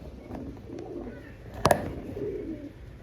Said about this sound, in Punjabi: ਕਬੂਤਰ ਸੁਰਖਾ ਕਬੂਤਰੀ ਕਾਲਚਿੰਨੀ ਬੱਚਾ ਡੱਬਾ